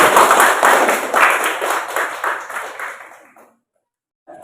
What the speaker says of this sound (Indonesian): Kita beri tepuk tangan untuk kelompok satu.